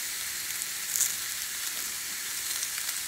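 A ribeye steak sizzles on a cast iron griddle, a steady bright frying hiss throughout with small crackling pops.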